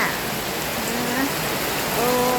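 Steady rain falls outside a home in a dense, even hiss that stays constant throughout, with faint background tones but no talking.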